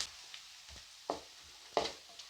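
Salted dry fish fries in a pan, a faint soft sizzle broken by a few distinct scraping stirs of a spatula, quiet and close with no talking.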